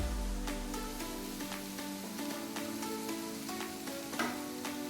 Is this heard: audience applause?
no